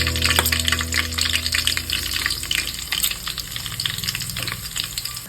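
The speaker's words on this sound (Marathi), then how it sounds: "थोडीशी मोहरी आपण जशी फोडणी देतो तशी फोडणी" Mustard seeds crackle and sizzle loudly in hot oil for tempering, a dense close spattering that settles slightly toward the end, with an occasional clink.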